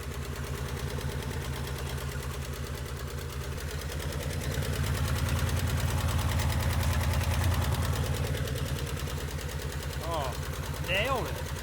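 An abandoned 1968 Chevrolet Impala's engine runs roughly, a loud, close, uneven chugging idle with a knocking pulse that swells in the middle, with a few brief higher squeaks near the end.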